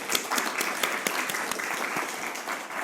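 At a law conference, an audience gives a warm round of applause: dense, even clapping from many hands, steady and fairly loud for nearly three seconds.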